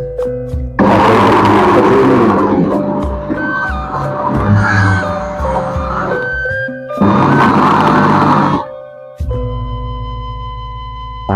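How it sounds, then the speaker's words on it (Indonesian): A blender motor whirs loudly in bursts while blending turmeric with water, starting, running steadily, pausing briefly, then surging again before cutting off with a lower hum after. "Kita blender aja."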